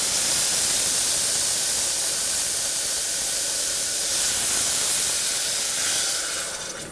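Steady, loud hiss of steam rising from a hot pan, continuous and broadband throughout with no voices, fading slightly at the very end.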